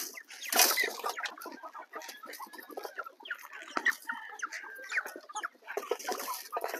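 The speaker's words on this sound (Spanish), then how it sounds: "aquí me quedo cuidando mis pollitos porque miren nomás cómo se avientan a la comida" Chickens cluck and chatter busily close by while feeding, a steady flurry of short calls with occasional louder squawks, no talking.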